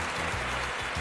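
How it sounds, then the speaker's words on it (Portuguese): A brief burst of dense audience applause from a TV episode of Power Rangers Ninja Storm, steady and loud throughout the short moment. "para elas, uma grande salva de palmas"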